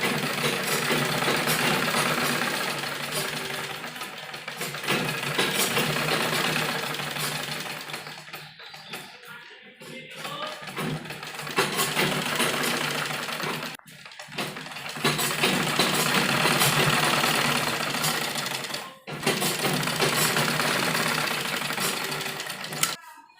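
A sewing machine stitches lace onto the front piece of an umbrella frock, running in long steady whirring stretches broken by brief pauses, close by, with a voice talking at times.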